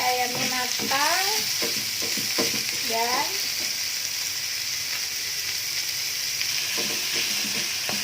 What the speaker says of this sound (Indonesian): Kita tumis, kita aduk sampai ayamnya matang,